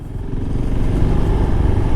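A Husqvarna Svartpilen 701 motorcycle with a twin-ignition single-cylinder engine holds a steady, deep engine drone at highway speed, loud and continuous with no wind roar.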